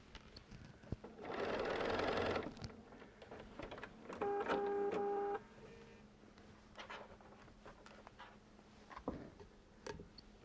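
A sewing machine stitches a fall-themed sawtooth star quilt block in two short bursts of rapid, whirring mechanical stitching, close and clear, separated by quiet handling clicks.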